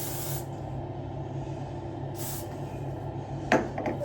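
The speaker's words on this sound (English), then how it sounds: "I just sprayed my whole face." A spray bottle mists onto a face in two short hissing bursts, followed by a brief rustle, all set against a steady low room hum.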